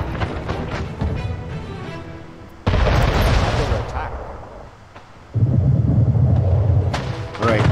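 Cannon fire during a naval battle in the video game Anno 1800, several heavy booms and rumbling blasts in quick succession, loud and close, with sustained low roar between shots.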